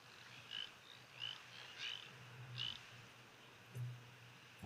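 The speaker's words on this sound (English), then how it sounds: "the springbok can almost sound frog-like when they call like that" Springbok call with short, frog-like croaks near a waterhole where Namibian giraffe drink: about five soft, evenly spaced rasping calls, faint and at a distance, with no talk.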